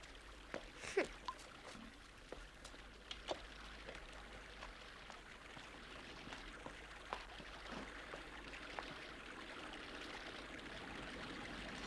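Hot water of a thermal spring flows and trickles steadily in an echoing cave-like space, a continuous faint stream with a few brief splashes, with no talk over it.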